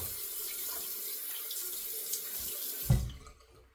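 A bathroom tap runs steadily into the sink for wetting the face before a head and face shave, a close hiss of water that cuts off with a thump near the end.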